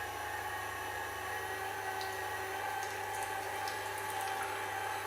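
Water is poured steadily while homemade milk is being made, a continuous faint trickling and pouring with a low background hum and no pauses.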